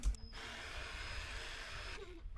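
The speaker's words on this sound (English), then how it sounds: "we're going to use a 1/4 inch drill bit to drill a hole to accept the eye hook" A power drill fitted with a 1/4 inch bit bores a hole for an eye hook on a kids' climbing gym build, one steady close whine lasting about two seconds before spinning down.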